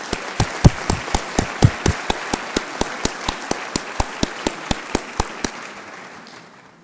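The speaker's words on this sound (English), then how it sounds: "Please give this group a round of applause." A small audience at a 2018 scholarship reception claps for the recipients, with sharp, evenly spaced claps at a steady rhythm before they taper off and fade into quiet room noise.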